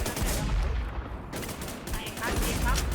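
Dense bursts of rapid gunfire from a shooting video game, loud and close, stopping briefly and then resuming, with a voice talking over the shots.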